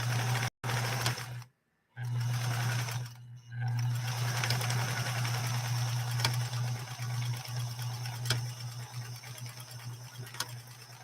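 A Pfaff 130-6 sewing machine runs close up, stitching in a steady mechanical hum with a rapid needle clatter, broken by a couple of short pauses near the start before it runs on continuously.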